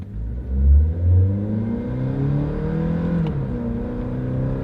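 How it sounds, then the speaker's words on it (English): A four-cylinder mid-sized pickup truck pulls away from a stop, its engine note rising steadily and settling into a smooth, moderately loud drone with no talking. "when you take off, sure, it's not a race truck, but it goes good enough"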